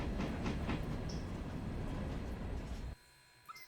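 A locomotive rumbles along the track in the Railroader video game, with steady wheel clatter and low engine drone for about three seconds before dropping to quiet, with no talk.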